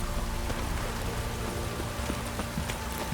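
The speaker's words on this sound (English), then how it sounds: "If it don't stop raining, my arse will rot off." Steady rain pours down in a rural scene of the video game The Witcher 3, a constant dense hiss with faint clopping of a horse's hooves mixed in.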